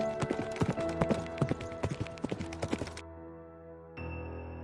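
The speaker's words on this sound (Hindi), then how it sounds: "उसके बाद राजा और मंत्री घोड़े पर सवार होकर तपस्वी के पास चले जाते हैं।" Horse hooves clip-clop in a steady rhythm as a king and his minister ride in an animated Hindi folk tale, loud and close for about three seconds before cutting off into a sustained tone with no talking.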